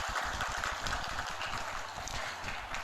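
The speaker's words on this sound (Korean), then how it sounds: "우리 박수로 환영합니다." Church congregation applauding in a welcome, a dense, steady patter of many hands clapping at moderate distance throughout.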